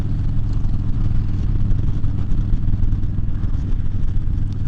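A motorcycle being ridden on the road gives a steady, low engine drone mixed with wind rush, continuous and fairly loud from the rider's position, with no voices.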